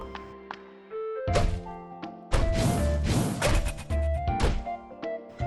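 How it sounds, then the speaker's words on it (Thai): The ice storm skill in the mobile action RPG Soul Knight Prequel, with shards falling in a burst of loud crashing thuds and smashes over game music, in several heavy clusters. "ก็จะเป็นพายุน้ำแข็งครับตกลงมาแบบนี้นะครับ"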